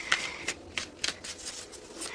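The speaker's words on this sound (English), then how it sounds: "while I'm shuffling" Tarot cards shuffled by hand, a run of quick riffling bursts and soft slaps at close range, steady and fairly loud, with no talk.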